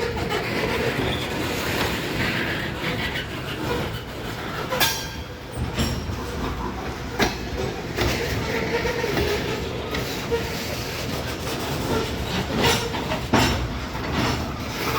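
A long freight train creeps slowly past a pedestrian path crossing in a metro park, giving a continuous rolling rumble with irregular clanks, wheel clicks and faint squeals, close and steady.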